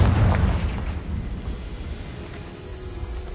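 Confringo blasting spell from a wizarding video game set near an Acromantula cave, a loud booming explosion with a rumbling tail that slowly fades over a few seconds.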